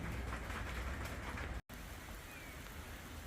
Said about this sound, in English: It's been raining pretty heavy all day.